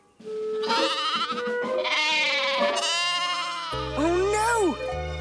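Cartoon sheep bleat in wavering, drawn-out calls, several overlapping cries close by, with a low steady hum underneath toward the end.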